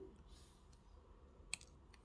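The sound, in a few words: cutting weaving wire for wire wrap earrings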